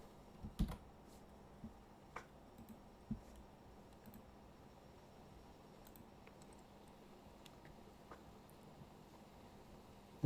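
Someone types a password on a computer keyboard: a few sparse, faint keystroke clicks near the start, then near-silence with low room hum.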